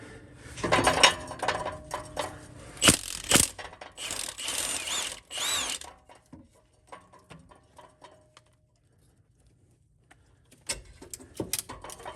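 A ratchet loosens a starter bolt under a fourth-generation Pontiac Trans Am with an LT1 engine, giving quick close clicking bursts and metallic clanks early on, then quieter scattered ticks and a few sharp clicks at the end.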